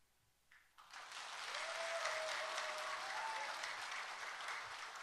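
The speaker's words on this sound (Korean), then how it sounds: "큰 박수로 맞아주시기 바랍니다" Audience applause welcoming the last candidate at a party nomination rally for Gimje mayor, clapping rising after a quiet moment and holding steady, a crowd some distance away.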